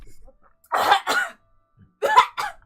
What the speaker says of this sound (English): Get that cough in as well.